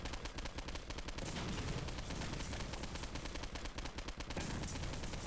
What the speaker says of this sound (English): I kind of feel like using the machine gun